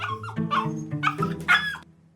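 A dog whimpers and gives short yips and barks close by in a burst of whiny, pitched cries with a strong closing yelp, and no speech over it.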